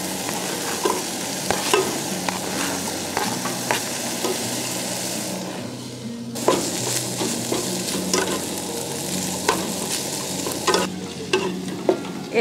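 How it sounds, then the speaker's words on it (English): Ground beef and onions sizzle steadily in a hot pan while camping in snow and freezing temperatures, with occasional scraping stirs and clinks of a utensil. "Going to brown this ground beef."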